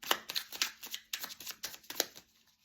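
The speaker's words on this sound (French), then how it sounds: "Je vais mélanger les cartes" A deck of playing cards is shuffled close by: a quick run of crisp riffling bursts and soft flutters, repeated several times in an uneven rhythm with no talking.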